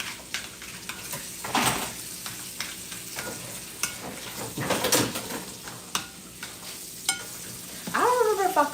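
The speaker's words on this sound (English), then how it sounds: "We're going to stir, stir, stir." Food being stirred in a pot while cooking a family dinner, with repeated scraping and clinking of a utensil against the pot over a low simmer, some louder bursts, and a sliding squeal at the end.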